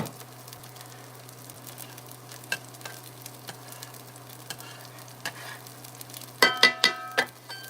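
Onions fry with a steady close sizzle in a pan while occasionally being stirred, soft scraping ticks over the hiss and a burst of louder clanks near the end.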